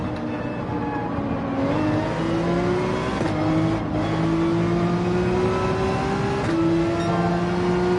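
A race car in Gran Turismo 7 online racing held at full throttle, a loud, continuous engine roar climbing steadily in pitch through the gears, with brief dips at each upshift.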